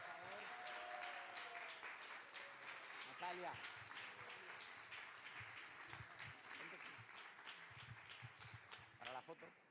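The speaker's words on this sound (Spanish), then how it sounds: "un aplauso para los estudiantes, por favor" Applause for students at a church gathering, steady clapping from a sizable group sustained throughout, with voices and some cheering mixed in near the end.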